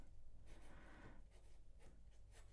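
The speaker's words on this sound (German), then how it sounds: "wenn er über das Papier schreibt, ihr habt da so ein ja, leichtes Feedback." A Schneider Easy fountain pen nib scratches softly across paper in short strokes, quiet and close, with brief lifts between words.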